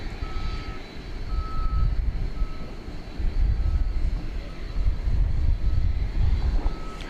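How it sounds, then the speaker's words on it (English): Aircraft engine rumble at Dallas/Fort Worth (DFW) Airport, heard from behind the perimeter fence near the runway, a steady low roar throughout with repeated reversing beeps from a ground vehicle cutting through. "Watching the planes here from Runway DFW Central"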